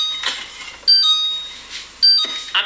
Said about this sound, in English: I can handle the beeping on the fridge